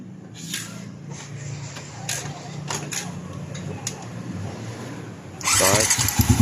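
A Yamaha Sniper 155 motorcycle with a tensioner problem is started. Faint clicks and short bursts of someone talking come first, then the engine catches near the end and idles loudly and unevenly.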